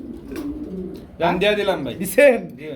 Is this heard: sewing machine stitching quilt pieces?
no